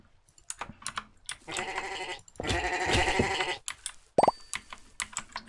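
Sheep bleating in the MineClone5 Minetest game, several short nasal bleats in quick bursts with brief clicks between them, close and fairly clear.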